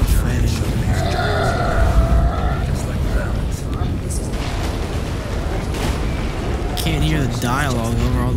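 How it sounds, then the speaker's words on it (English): Dense, rumbling explosions and booms from The Witcher 3 video game pile up continuously, mixed under in-game dialogue and other action noise. "Dialogue over all the explosions."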